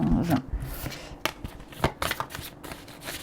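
A deck of tarot cards is cut and handled, giving close crisp riffling and several soft slapping flicks in an irregular rhythm, with a faint voice early on.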